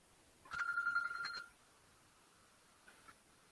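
A mobile phone rings once with a short, bright electronic trill lasting about a second, then gives a faint brief chirp afterward. It is quiet and somewhat distant in a hushed room.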